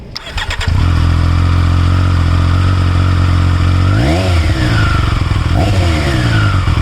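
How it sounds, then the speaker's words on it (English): A 2022 Triumph Street Triple RS motorcycle engine cranks and catches, settling into a loud, deep idle, then revs up twice in quick swells before dropping back. "I'm just going to fire up the engine right now and show you how it sounds."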